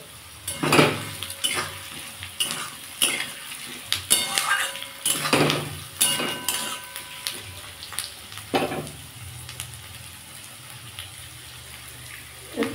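Thinly sliced potatoes tossed into frying onions in a pan, with a steady sizzle under repeated sharp clatters of a utensil stirring against the pan, close and fairly loud, no talking.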